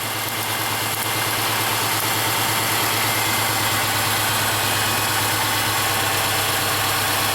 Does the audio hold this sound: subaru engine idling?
yes